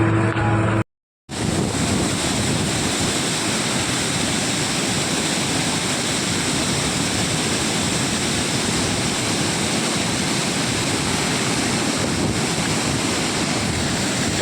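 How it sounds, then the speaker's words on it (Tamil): A waterfall at a dam on the Chittar river near Tenkasi roars as a loud, dense, continuous rush of water, steady throughout after a brief gap near the start, with no voices. "இவ்வளோ அற்புதமான ஒரு ஒரு சூப்பராக ஒரு அருமையாக அருவி பாருங்கள்"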